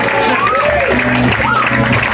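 Audience applause at a magic show rises as a steady, loud wash of clapping, mixed with a voice and other tonal sound running over it throughout.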